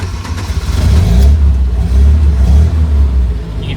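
A 1972 GT car engine runs at idle with a steady, loud, close low rumble that swells slightly and settles, continuous throughout with no talking.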